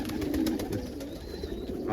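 An almond pigeon, a cross of an Indian fantail and a Homer, coos low and steadily close by, with a soft background hum and faint rustling throughout.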